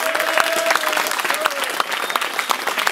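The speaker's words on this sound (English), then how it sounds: "clap that shit up" Crowd clapping at a rap battle after the judge's decision, lively applause with cheers and whoops rising over it, loud and close.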